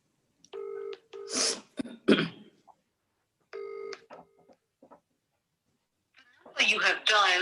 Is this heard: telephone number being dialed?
yes